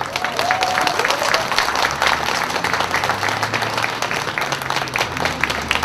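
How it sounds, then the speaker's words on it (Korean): An audience at a Democratic United Party gathering in Busan applauds with many distinct hand claps, a sustained and fairly even ovation with faint voices murmuring underneath. "박수 한번 보내주십시오."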